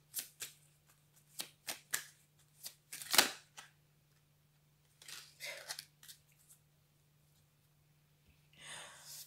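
Tarot cards shuffled by hand in short riffling bursts, close and fairly soft, with a steady low hum underneath and quiet pauses between the shuffles.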